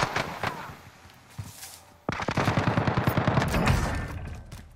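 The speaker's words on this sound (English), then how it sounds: "Who are you shooting at, Tom?" Gunfire from Call of Duty Warzone (Cold War era), with scattered shots at first, then a loud, steady stream of rapid automatic fire from about the midpoint to the end.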